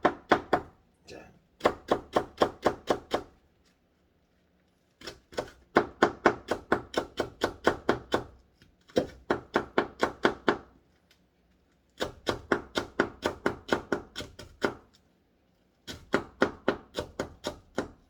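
A knife chops green onion on a cutting board in a home kitchen, quick rhythmic bursts of sharp taps in several runs separated by short pauses, close and crisp.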